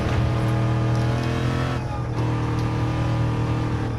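A Toyota Crown Athlete VIP sedan engine accelerating hard, a loud close steady drone with strong harmonics and a brief dip as it shifts before pulling again.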